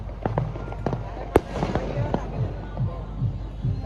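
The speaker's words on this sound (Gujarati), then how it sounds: "તો ફટાકડા જોરથી ફાટી રહ્યા છે" Firecrackers pop and burst in the distance on New Year's Eve, several sharp bangs scattered over a murmur of background voices.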